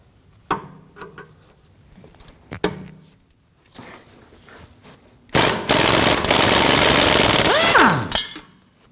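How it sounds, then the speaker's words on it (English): A 14mm wrench is worked on a sway bar link nut on a 2016-2022 Honda Pilot, with locking pliers holding the stud, giving a few scattered metallic clicks and knocks before a long, loud, continuous burst of harsh mechanical rattling that stops abruptly. "We'll remove the sway bar link nut with a 14mm. I'm going to use a set of locking pliers to hold the stud from the back."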